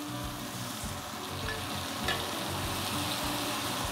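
A steak basting in a hot pan crackles and sizzles densely and continuously, close up, with soft spooning clinks and no talking.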